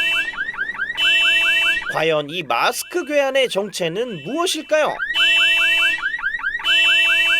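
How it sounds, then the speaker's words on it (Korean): Car alarm blaring in an underground parking garage, a loud repeating electronic siren whose cycling tones run before and after a stretch of dramatic narration. "산타는 지하 주차장에서 난데없이 차 경보음 소리를 듣는데요"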